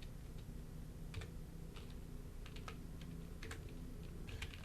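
Typing on a computer keyboard while writing R code for a ggplot2 chart, with scattered keystrokes in irregular bursts, fairly faint over a steady low hum and no talking.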